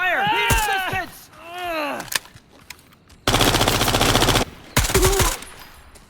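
Automatic gunfire in the shooter game Incursion Red River, two sharp rattling bursts about a second long, loud and close, following a shouted radio-style voice callout.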